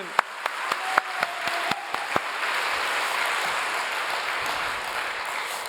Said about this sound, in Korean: 우리 하나님께 영광의 박수 한 번 더 올려드리겠습니다